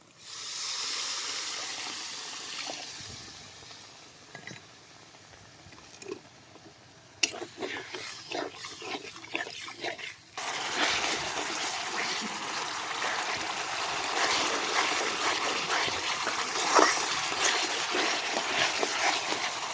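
After some quiet kitchen noise and a voice talking, a splash of water hits spices and ginger paste frying in hot oil for chicken curry, bursting into a loud, sustained sizzling hiss up close.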